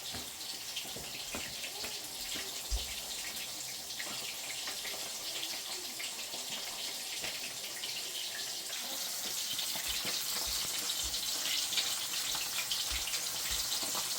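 Tap water runs steadily into a basin where fish soak and are washed to loosen soil and grit, a continuous close hiss that grows slightly louder partway through.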